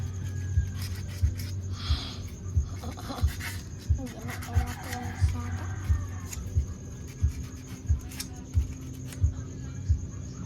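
Rhythmic rubbing rasp of sandpaper on a surface, regular strokes about every half second, steady and close.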